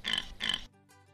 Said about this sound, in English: Sky found the pig, and a pig goes,